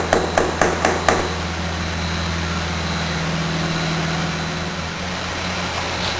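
A hammer taps a cap onto a reverse osmosis membrane tube, giving five quick sharp knocks at the start, followed by a loud, continuous mechanical drone and hum of machinery.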